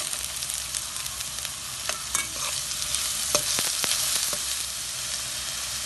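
Onions and freshly ground paste frying in hot oil for Indonesian nasi goreng: a constant close sizzle with sharp scraping clicks of a spatula stirring against the pan.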